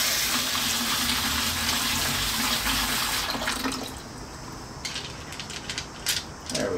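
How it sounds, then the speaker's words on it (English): Running water from a tap rinses tumbled rocks in a strainer. A steady gush fills the first few seconds, then it thins into scattered splashes and drips. "we're going to rinse them off."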